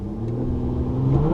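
A 2019 Infiniti Q50S with its 3.0T engine holds a steady, loud rev for launch control, a sustained mid-pitched drone with a slight rise near the end, heard alone.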